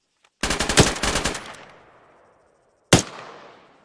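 Gunfire from a shooter engaging a target in a tower, a rapid automatic burst of about eight close, sharp shots with a fading echo, then one more loud shot after a short pause.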